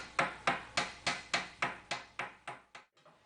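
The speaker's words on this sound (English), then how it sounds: "I'll do some hammering on it." Steel armour plate for a 14th-century arm harness struck on a ball stake: about ten sharp, evenly spaced hammer blows, ringing and close, with the last few fading quieter and no talking.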